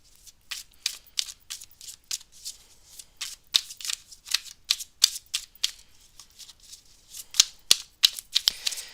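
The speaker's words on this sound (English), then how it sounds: "Let me take some more cards out here, Teresa." Tarot cards are riffled and shuffled by hand in a quick run of crisp, papery flicks, close and fairly quiet with no talk.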